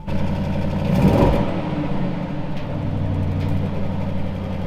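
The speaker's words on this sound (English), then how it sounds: "It's not even worth revving it because of the soft limiter" A new Audi car engine idles steadily, with one brief rev held back by the soft limiter near the start before settling into a low, even hum.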